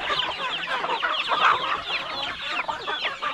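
Chickens cluck close by, a busy overlapping chatter of short clucks and calls that keeps going without a break.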